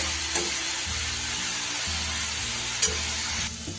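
Onion and garlic sizzle steadily in hot oil while being stir-fried for a fish curry, a continuous close frying hiss broken by a few brief stirring scrapes and clinks, with no talking.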